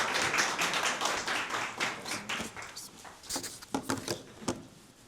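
Audience applause welcoming a professor onto the stage at a seminar and book talk, a broad patter of many hands clapping, dense at first and thinning to scattered claps toward the end.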